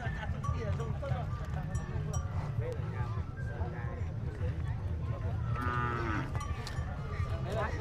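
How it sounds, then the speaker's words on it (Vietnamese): Water buffalo at a village livestock market in Coc Ly, northwestern Vietnam, low drawn-out moos and bellows among a busy crowd of animals, with people talking throughout. "buổi sáng ngày hôm nay mình phát hiện có một con trâu sừng khá là đẹp."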